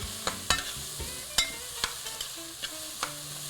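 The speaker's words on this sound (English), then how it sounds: "stir that in." Seasoning being stirred into vegetables in a pan, with a spoon scraping and clinking in several sharp, close strokes over a soft sizzle, no talking.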